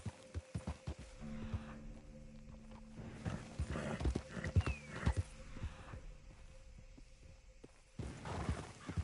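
Horse hooves clop unevenly at close range in the video game Red Dead Redemption 2, with scattered thuds and a faint tonal hum in the background; no one speaks.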